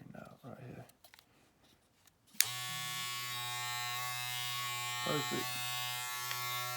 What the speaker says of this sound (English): See, that's a pretty clipper.